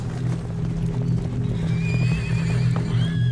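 A troop of horses gallops close by, with dense, continuous hoofbeats and a loud whinny that rises near the end, as a band of about thirty riders arrives in a cloud of dust.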